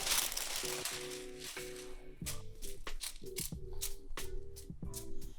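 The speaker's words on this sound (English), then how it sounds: "Take a piece of parchment paper." Parchment paper crinkles and rustles in bursts while a cook prepares to lay spiced salmon in a kitchen pan, close and crisp, with steady tonal background music running underneath.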